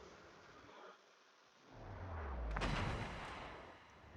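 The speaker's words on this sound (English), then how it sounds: "Another HE volley out on the nose of the Bismarck." A naval high-explosive shell volley fires from a warship in World of Warships, the ship being the Marlborough, producing a deep booming blast that swells mid-clip and rumbles off, heard alone without talk.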